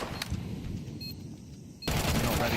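AK rifle fire in a Counter-Strike 2 match, rapid automatic shots mixed into the game sound, with a louder, denser stretch of firing near the end.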